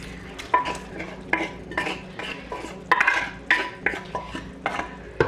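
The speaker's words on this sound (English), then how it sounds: "Now I will add the cooked cholar dal or chana dal. So go ahead and add that." Cooked chana dal, a Bengali cholar dal, goes into a pan of hot oil and gets stirred, giving repeated scraping and clinking of a utensil against the pan in a steady rhythm, close and moderately loud with a faint sizzle beneath.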